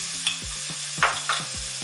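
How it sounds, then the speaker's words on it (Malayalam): A spoon scrapes and stirs chickpea curry with added salt in a pan, a few distinct rhythmic strokes over a soft sizzle, close and clear with no voices. "ഒന്ന് ഇളക്കിയതിന് ശേഷം"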